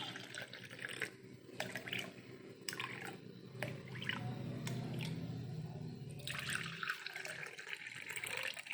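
Lemon juice is poured into a glass, a splashy liquid trickle with a few short gurgles and drips, close and moderately quiet, with no voices.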